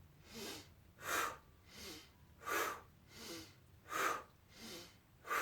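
Breathing-exercise exhales repeat in a steady rhythm, each breath a soft, airy rush of air close to the microphone, alternating stronger and weaker pulses about every half second to second.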